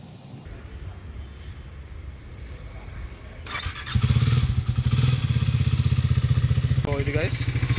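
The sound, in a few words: superbike engine cold start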